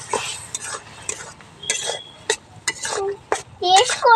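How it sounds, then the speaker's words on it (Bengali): Maggi noodles with Maggi masala are stirred in a pan, with bursts of spoon clinks and scrapes against the metal, close by. A voice breaks in near the end. "এখন মশলা দিয়ে দেবো, ম্যাগি মশলা। এখন নেড়ে চেড়ে নেব।"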